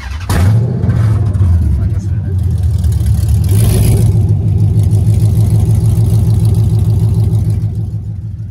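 A Chrysler 300C fitted with open long tube headers roars loudly close by, a deep rumbling exhaust that revs up sharply, drops back, then swells again into a sustained, heavy drone.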